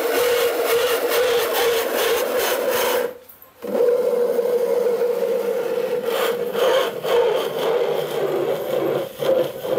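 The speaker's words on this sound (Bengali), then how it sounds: "এই দেখেন এখন কিন্তু মিক্সার হচ্ছে" A coffee maker's electric mixer whisks coffee into foam with a steady, loud whirring buzz that cuts out briefly for a moment before running on continuously.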